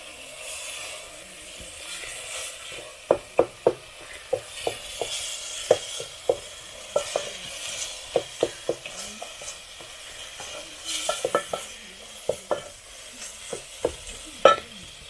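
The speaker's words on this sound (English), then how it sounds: "after that, I have to add the eggs. We add the eggs. And then we stir like this." Eggs being stirred in a frying pan over a village cookfire, a soft continuous sizzle broken by repeated sharp scrapes and taps of the utensil against the pan, coming in irregular bursts close by.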